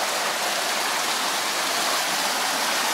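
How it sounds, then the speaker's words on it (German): Water pouring out of a rock cave at the Krka waterfalls, a dense, constant rushing roar, close and loud with no pauses. "das Wasser kommt hier aus dieser Höhle"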